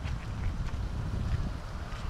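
Strong wind sweeps across Prainha beach in Casimiro de Abreu, Brazil, where the São João River meets the sea. It makes a steady, heavy low rumble of gusts buffeting the microphone.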